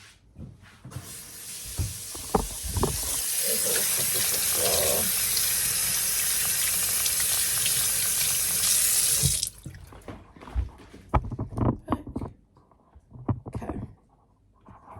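Tap water runs into a sink while food is washed under the stream, a steady loud broadband gush for several seconds that then stops, leaving scattered clatter and handling noises.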